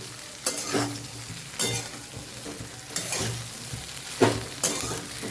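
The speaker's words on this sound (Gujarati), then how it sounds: "લીલા ધાણા પણ સરસ ઉમેરી દીધા છે અને સરસ બધું મિક્સ કરી લઈશું આપણે" A thick vegetable muthiya dhokla batter with fresh coriander is stirred in a bowl, with several wet scraping and squelching strokes at an uneven pace, close up and with no voices.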